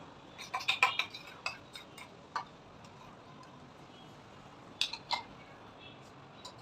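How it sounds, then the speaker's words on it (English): Curd being beaten in a bowl to thin it for egg biryani, heard as quiet, irregular clinks and ticks of a utensil against the bowl, some in quick bursts, over a soft background. "So you have to beat it a little bit so it becomes thin."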